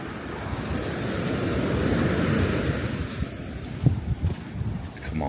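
Surf washing onto Kamala Beach in Phuket, Thailand: a continuous broad wash of breaking waves, loud and close, with gusting wind buffeting the microphone.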